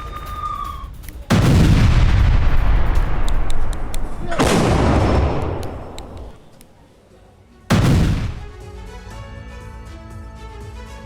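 Heavy artillery fire during a Russian attack on Kharkiv: three massive, close booms, each followed by a long rumbling decay, the last after a brief lull.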